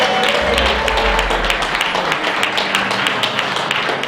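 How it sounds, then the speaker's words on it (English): Crowd applause fills a convention hall for Massey Ferguson as main sponsor, a dense, steady clatter of many hands clapping throughout with a low hum underneath. "a big round of applause for Massey Ferguson"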